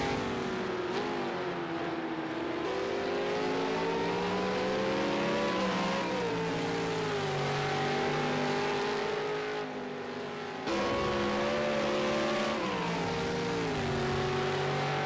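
A V8 Supercar screams around the Bathurst circuit in a racing game, its engine holding a sustained high-revving howl that rises and falls through gear changes with no break.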